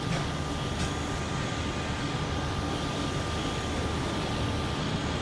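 A WAP7 electric locomotive starting up in a train simulator game, giving a steady broadband hum and rumble with a faint tonal whine, held constant and fairly close.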